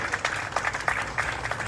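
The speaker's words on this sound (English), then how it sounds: "Give them a round of applause." A crowd at a ceremony for first responders and veterans claps briefly for the St. Andrews Fire Department, a short patter of applause at modest volume.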